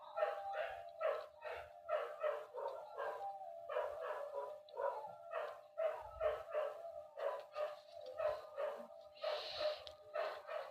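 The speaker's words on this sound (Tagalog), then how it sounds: "Ayan, ang ingay ng mga aso." Several dogs barking repeatedly at a distance, rhythmic bursts of yaps and barks with a few whimpers, fairly faint and without talk over them.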